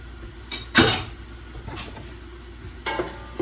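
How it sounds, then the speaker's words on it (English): A heaping tablespoon of garlic is stirred with onions in a pan, giving a low sizzle under a few sharp scrapes and knocks of the utensil against the pan. "Stir that around a little bit."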